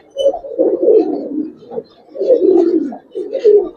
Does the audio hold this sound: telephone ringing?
no